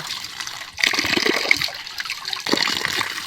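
Running tap water pours and splashes steadily while spring onion greens and their roots are rinsed clean under it, a close, continuous gushing with shifting surges and no talking.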